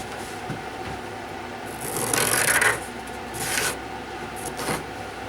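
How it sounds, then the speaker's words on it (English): A bandsaw cuts wood along a drawn line for a homemade dust collector, making a steady rasping, rubbing drone with a few louder swells as the blade bites harder. "Now I just need to follow that line on the bandsaw, and I should be pretty good."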